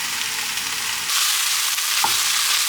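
Drained chickpeas and a spoonful of organic tomato paste sizzle in a hot pan, a steady broadband hiss that jumps louder midway as the ingredients hit the oil, with a brief scrape of stirring near the end.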